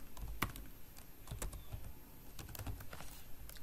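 Keys clatter on a computer keyboard as code is typed, with irregular clusters of soft clicks and taps at close range and no one talking over them.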